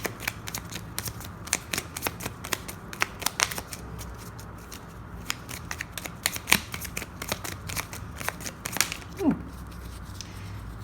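Tarot cards are shuffled and drawn, with rapid papery riffles and crisp snaps coming in irregular bursts, close and fairly quiet.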